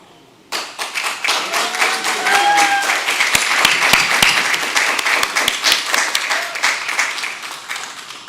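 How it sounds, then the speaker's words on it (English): A school board meeting audience breaks into applause for the outgoing board president, sharp clapping that starts suddenly, swells into a full steady round and thins toward the end. "Let's give him a well-deserved round of applause"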